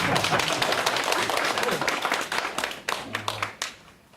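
Audience at a labor forum on non-regular workers claps through the opening seconds, a dense patter that thins into scattered separate claps toward the end, with some talk mixed in underneath.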